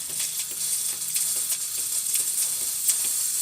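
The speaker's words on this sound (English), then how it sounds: "There's steam." A sharp, steady hiss of steam jetting from the steam wand of a leaking Lavazza Espresso Point machine, with faint crackles and spits sputtering through it.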